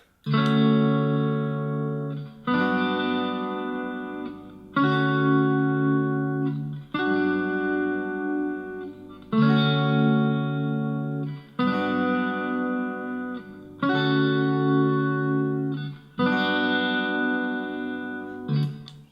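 Strummed guitar chords ring out in a steady looping pattern, each chord sustained about two seconds before the next, bright and close.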